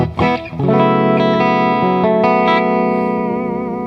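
A distorted electric guitar chord through a Seymour Duncan JB humbucker pickup rings out loud and sustained after a few quick picked notes, with a thick, high-output tone slowly fading.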